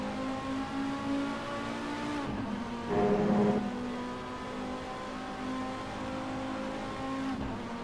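A race car in the Assetto Corsa video game runs at high revs in second gear near 100 mph, a steady whining engine tone that dips and climbs briefly with a gear change, sustained and moderately loud.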